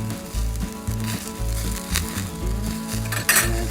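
Marinated meat sizzles loudly on a bushcraft barbecue grill outdoors, a close, steady frying hiss with faint clinks of cooking utensils.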